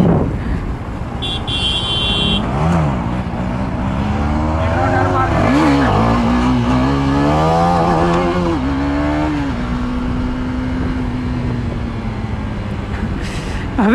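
A Kawasaki ZX-10R superbike engine revs loud and close, its pitch rising and falling in repeated sweeps before settling into a sustained, droning hum.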